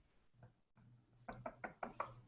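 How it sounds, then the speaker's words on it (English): Four to five sharp knocks on a wooden door in a staged reading of the Porter scene, coming as a quick, close, loud run after a faint single knock, with no voices over them. "Knock, knock, knock."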